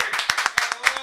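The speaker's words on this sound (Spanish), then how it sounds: "despedimos este contacto con este aplauso." Applause closing a Spanish-language music program segment at a scholarship award event, a short burst of sharp rhythmic claps from a small group, close and clear.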